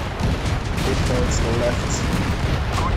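Tank battle in the game Tank Company, a steady barrage of booming shots and explosions rolling from several directions, mixed with faint interface beeps while a voice speaks briefly over it.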